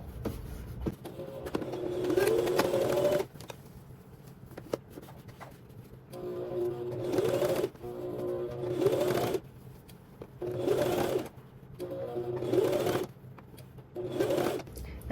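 Home sewing machine stitching through jumpsuit fabric in bursts of steady mechanical whirring, several runs of a few seconds each separated by brief pauses, close and clear with no talking.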